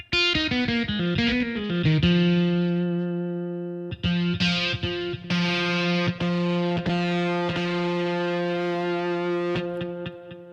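Genos 2 keyboard voice played through a jazz combo amp effect, sustained sustained chords and notes with a clean, warm tone, held and restruck several times, loud and alone.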